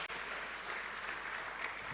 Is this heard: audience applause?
yes